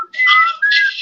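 A person whistles two clear, sustained tones with a brief dip between them, close and loud with nothing else heard.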